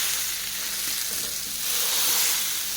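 Mackerel coated in masala and topped with curry leaves fries in a pan, a dense, even sizzle heard up close and alone that swells slightly near the end.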